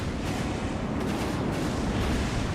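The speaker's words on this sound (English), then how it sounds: "Just a lot of missiles happening here." Dense, sustained rumble of missile explosions in the mech combat game Armored Core: Nexus, a continuous wash of booms and blasts at steady loudness with no talking.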